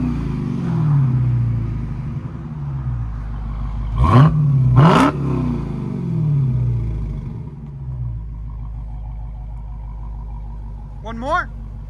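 A Dodge Challenger SRT Hellcat with Black Widow exhaust idles with a deep rumble, then fires off two sharp, loud back-to-back revs that fall away into burbling idle, followed by a smaller blip near the end.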